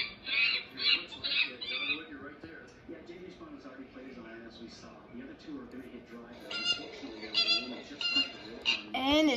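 Monkey calls, shrill and squawking, come in repeated chattering bursts at the start and again toward the end, set over a busy, continuous backdrop.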